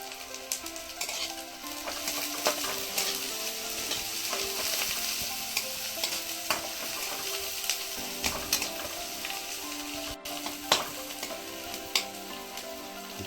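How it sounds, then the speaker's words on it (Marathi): Curry leaves sizzle loudly in hot oil while vegetables fry in a pan for a wild bhokar flower bhaji, a steady crackling hiss with scattered stirring clinks and pops and no talking. "थोडा कढीपत्ता टाकून घेतला आहे"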